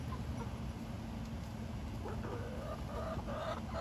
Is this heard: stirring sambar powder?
no